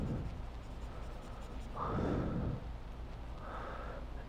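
Marker strokes on a board rub and squeak in short scratchy bursts over a steady background hiss, close and moderately loud, while someone works through a linear inequalities problem.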